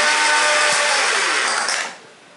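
A blender grinds plain bread into breadcrumbs with a loud, steady, close-up whirring roar that holds for about two seconds before dropping to a quieter spin-down.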